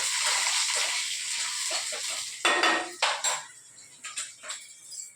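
Curry leaves hit hot oil in a pan and fry with a loud hiss that fades, followed by several sharp metal clinks and scrapes of a utensil against the pan, with no talking.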